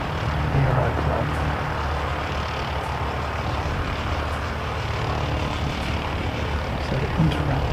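A Cathay Pacific Airbus A350-1000 on flight CX126 to Hong Kong makes a steady, broad jet-engine roar that holds at an even level throughout.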